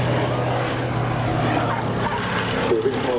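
A biplane torpedo spotter reconnaissance aircraft with a Bristol Pegasus radial engine flies at the Southport airshow, its propeller engine a loud, steady droning roar, with a voice speaking underneath.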